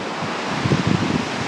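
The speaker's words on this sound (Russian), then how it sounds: "море." Surf washing onto the Anapa shore of the Black Sea after a storm, a steady broadband wash with a low rumbling swell peaking in the middle, mixed with wind noise on the microphone; no voices.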